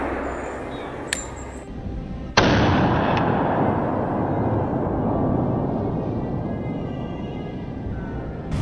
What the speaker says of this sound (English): Trunk Bernie raised his rifle, took careful aim, and pulled the trigger